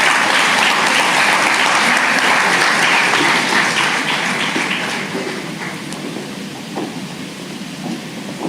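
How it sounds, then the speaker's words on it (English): Sustained applause from a graduation ceremony crowd at Sir Arthur Lewis Community College as a guest speaker walks to the stage, a dense, loud wash of clapping that thins slightly toward the end. "A round of applause as she makes her way to the stage."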